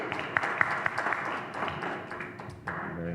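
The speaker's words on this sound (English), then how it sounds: "We're not clapping because you left." A small group claps at a Board of Works meeting, a short, faint patter of scattered hand claps fading out, with murmured voices in the room.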